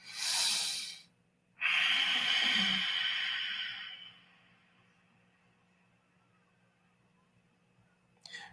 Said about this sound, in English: when you exhale out, it will be like a sound of the ocean